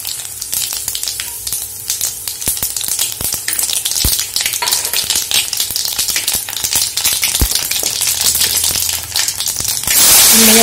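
Tempering spices sizzle and crackle in hot oil for a bitter gourd curry, a steady loud frying hiss with sharp pops throughout and a louder surge of sizzling at the very end, no talk.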